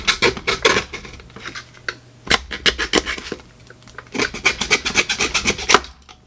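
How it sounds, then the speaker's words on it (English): A handsaw cuts through the plastic of a Boomco Halo Brute Spiker blaster part in quick rasping strokes, close and loud, in two bursts separated by a short pause. "I'll get my handy dandy handsaw."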